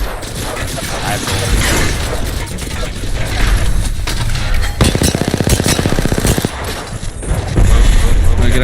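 Rapid mechanical gunfire bursts crackle and rattle in an Apex Legends match, loud and dense, with a fast regular burst in the middle and a voice calling out over the shooting.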